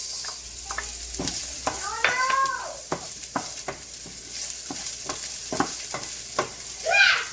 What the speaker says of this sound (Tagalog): ilagay natin ang ating bawang. Tsaka ang ating sibuyas.